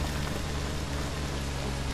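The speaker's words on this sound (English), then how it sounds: "it's raining, so that makes it worse" Steady rain pours down in a delivery driving game, a dense, even hiss of falling drops that holds constant and fairly loud with no breaks.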